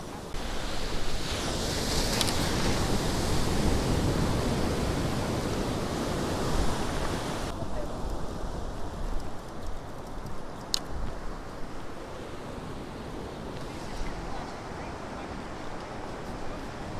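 Ocean surf at Baker Beach, San Francisco, a continuous rushing wash of breaking waves mixed with wind buffeting the microphone, with faint voices at times.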